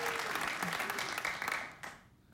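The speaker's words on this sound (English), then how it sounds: "Wait. I didn't ask you to applaud." A late-night TV studio audience claps and cheers in a dense, loud burst that holds steady, then thins and fades out near the end.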